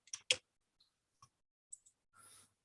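Soft mouse clicks join a web meeting: two sharp taps at the start, then a few fainter isolated ticks spread apart, ending with a brief hiss of room noise in a quiet setting.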